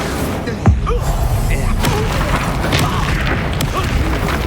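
Incendio fire spell cast in Hogwarts Legacy, a sharp whooshing burst early on followed by crackling, rumbling combat noise, loud and close.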